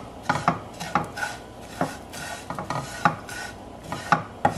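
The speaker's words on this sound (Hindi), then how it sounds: "अब मैं इसी में ये डाल रही हूँ सेवैयां" Vermicelli stirs constantly in a pan for sheer khurma, giving a run of close, rhythmic scraping and rasping strokes over a low sizzle, with no talk.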